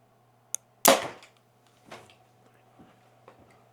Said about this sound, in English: now's the time where we have to shoot 3 arrows quietly because we don't want to set off the decibel meter